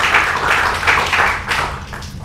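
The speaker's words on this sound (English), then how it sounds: "Applaudir, bien sûr, mesdames et messieurs" An audience applauds at the inauguration of International SOS headquarters in Mauritius, a dense wash of clapping that swells and dips in waves over two seconds.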